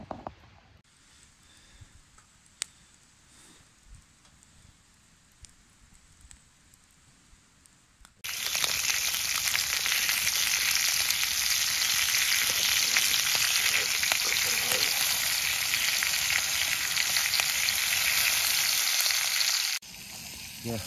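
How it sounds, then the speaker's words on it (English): Breakfast frying on an upturned Dutch oven lid at a campsite: after a quiet stretch of faint clinks and handling, a loud, steady sizzle starts abruptly and runs for about eleven seconds before cutting off. "We're doing a bit of brekkie here on the lid. First time cooking on the dust oven lid."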